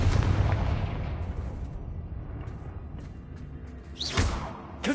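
A Confringo blasting spell going off in Hogwarts Legacy, a loud explosive burst at the start that decays into a rumbling tail, followed by a second sharp blast with a whooshing sweep near the end.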